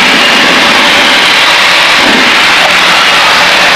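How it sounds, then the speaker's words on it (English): A light aircraft engine roars loud and steady in flight while being cleared, a continuous broadband drone with a slight swell midway and no talk. "We're going to clear the engine real quick."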